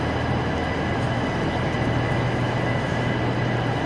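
Train station ambience with a constant dense roar of crowd and machinery noise, a low steady hum underneath and no distinct events.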